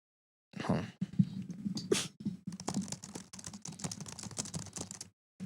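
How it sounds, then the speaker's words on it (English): Computer keyboard typing, a quick run of close, fairly soft key clicks and taps lasting a few seconds with no voices over it. "we need a keyboard typing soundbite"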